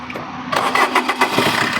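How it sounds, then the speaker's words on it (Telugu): A 2018 Maruti Brezza ZDi diesel engine cranks and catches at about half a second, then settles into a steady, loud clattering idle with rhythmic pulses. "ఇంజన్ సౌండ్ చూడొచ్చు వినబడుతుంది డీజిల్ ఇంజన్ అండి ఇది"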